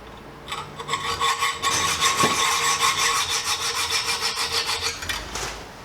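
M4 bolts for mounting a mudguard on a Honda NTV650 motorcycle are sawn shorter, giving rhythmic back-and-forth rasping strokes that are close and loud, with a brief pause midway.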